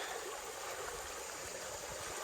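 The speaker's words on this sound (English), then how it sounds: "this one actually has the stream flowing through it so you can hear it" A stream flows past a small beach area at a creek camp, a steady, close rushing and trickling of water that runs unbroken throughout.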